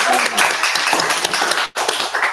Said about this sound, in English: Oh, we get to clap it.